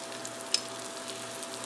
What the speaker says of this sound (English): we want to hear that sizzle